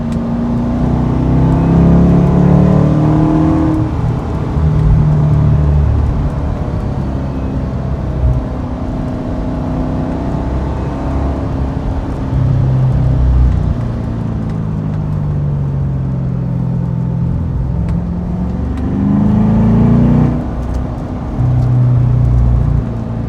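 A 2014 Chevrolet Corvette Stingray with manual transmission, driven on a lightly rainy road, gives a loud, steady engine drone that rises and falls through gear changes and throttle swells over the whole stretch, with no talking.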